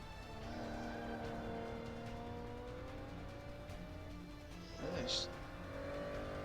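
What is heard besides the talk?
car driving into first corner of circuit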